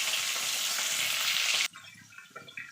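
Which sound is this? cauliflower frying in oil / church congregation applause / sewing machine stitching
cauliflower frying in oil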